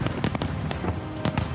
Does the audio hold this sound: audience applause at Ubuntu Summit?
no